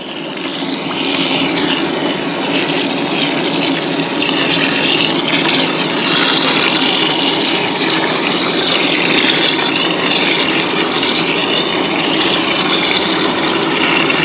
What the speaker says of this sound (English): I'm trying to fill it up about half full or so.